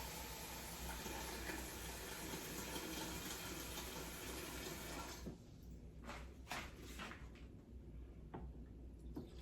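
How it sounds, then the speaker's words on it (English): Cold water pours steadily into a kombucha vessel, a continuous broad rushing hiss for about five seconds, then the flow stops and a few clinks and knocks follow in a quieter room. "I'm going to fill it the rest of the way with cold water."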